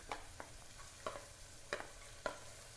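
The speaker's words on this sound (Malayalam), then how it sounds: "ഉള്ളി ഇടുന്നു, പിന്നെ പച്ചമുളക് ആഡ് ചെയ്യുന്നു." Onions and green chilies fry quietly in a home kitchen pan with a soft, steady sizzle, broken by a few sharp scraping stirs of a spoon.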